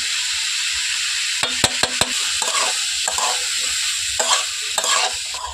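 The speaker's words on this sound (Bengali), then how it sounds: "লবণ আর হলুদটা দিয়ে একটু নাড়াচাড়া করে" Vegetables with green chillies, salt and turmeric stirred in a pan with no oil, a steady sizzle broken by a few sharp spatula clacks and scraping strokes, close and loud with no talk.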